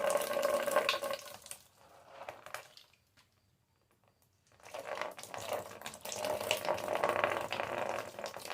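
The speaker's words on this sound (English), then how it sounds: "let's see how much oil and water comes out of this thing." Oil and water pouring out of a seized, neglected engine, a steady splashing stream that runs, fades to near silence for a few seconds, then resumes strongly.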